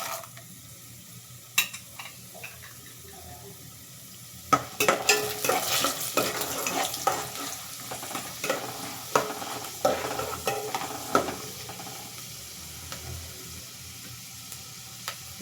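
Chana dal fries in hot oil in a pan while being stirred for puliyogare, a soft steady sizzle broken by repeated scraping and clinking stir strokes that grow busier after a few seconds, with no talking.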